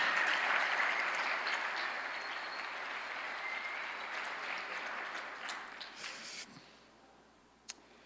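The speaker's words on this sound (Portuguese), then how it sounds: "Um aplauso de honra" A church congregation applauds in honor of a visiting pastor, a broad wash of clapping that gradually fades and dies out near the end, leaving a quiet room with one sharp tap.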